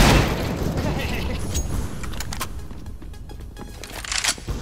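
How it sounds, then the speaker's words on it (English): A grenade bursts in Counter-Strike: Global Offensive with a loud, rumbling boom that fades, followed by scattered gunfire cracks, while a player talks over the action. "Throwing a grenade."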